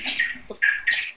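Shrill screeches of bats in the video game Home, three loud bursts in quick succession, close and unaccompanied by talk.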